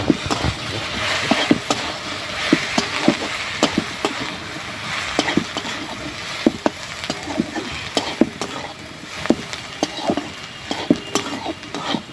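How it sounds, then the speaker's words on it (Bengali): Jackfruit seeds seasoned with Kashmiri chilli powder and salt are stir-fried in a pan, giving a steady sizzle broken by frequent sharp scrapes and clinks of a spatula, close and fairly loud throughout with no one talking. "স্বাদ মতো নুন, ভালো করে এটা আমি কষাবো"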